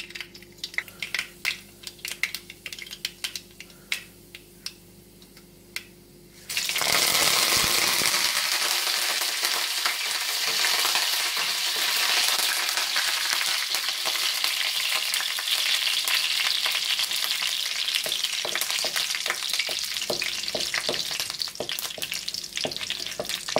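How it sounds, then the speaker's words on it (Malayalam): Mustard seeds, dried chilies and curry leaves hit hot oil for a Kerala-style tomato curry, setting off a sudden loud, dense crackling sizzle that stays strong to the end after a quieter stretch of light clinks. "എണ്ണ ചൂടായി കഴിയുമ്പോൾ അതിലേക്ക് കടുകും വറ്റൽമുളകും കറിവേപ്പില ഇടുക."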